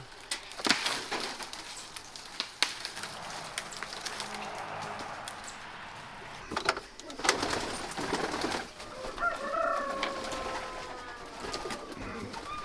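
Pigeons coo softly amid scattered knocks and rustling, their low murmuring calls rising more clearly toward the end.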